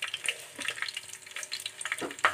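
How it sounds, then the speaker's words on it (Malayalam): Fenugreek seeds crackling and spluttering in hot oil, a busy scatter of quick pops and sizzles close up, with no voices. "ഉലുവ പൊട്ടി വരുന്നുണ്ട്."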